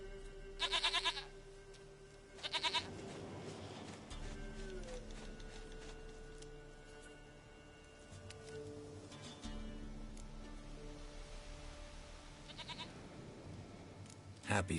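A goat in a video game gives a few brief bleats at the start, near the middle and at the end, set among soft game music and other quiet game sounds.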